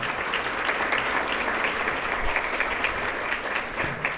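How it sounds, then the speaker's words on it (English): Steady audience applause at a Teacher of the Year banquet, a dense, even wash of clapping from a crowd lasting throughout. "Give her another round of applause."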